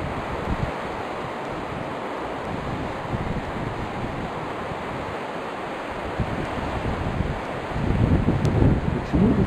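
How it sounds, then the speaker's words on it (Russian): Steady, broad wind noise roars across the whole stretch in ibex mountain country, buffeting a close microphone and swelling stronger near the end, with no voices. "Почему сейчас ветер?"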